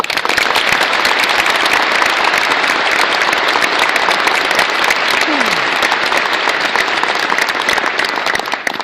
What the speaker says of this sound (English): you join me in another round of applause for all these wonderful people?